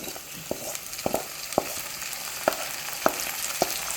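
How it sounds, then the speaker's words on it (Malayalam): Tomatoes frying in a pan under a steady sizzle, with sharp spoon scrapes and clicks against the pan at irregular intervals, close and moderately loud with no talking. "ഇതിന് നല്ലോണം ഇളക്കി കൊടുക്കണം കേട്ടോ"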